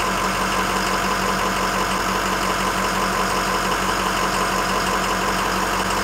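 A truck engine runs steadily at idle, close and loud, a constant droning hum while an RV air compressor is being demonstrated.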